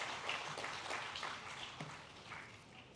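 A conference audience applauds at the ICISD'2026 inauguration ceremony, a steady, even wash of many hands clapping together, fairly faint and distant, holding for about three seconds with no voices over it.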